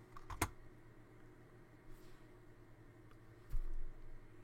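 A wireless computer keyboard is used quietly: only a couple of sharp, isolated key clicks stand out, spaced a few seconds apart, over a low steady background hum.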